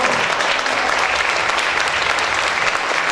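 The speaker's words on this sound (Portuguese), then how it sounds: "Aplausos, vamos fazer barulho, se levante." Loud, sustained audience applause for Ana Lu at a literary festival panel, dense continuous clapping filling the room.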